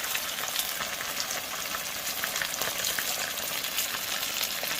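Mustard-coated fish frying in hot oil, a loud, bright, steady crackle and sizzle with rapid popping throughout.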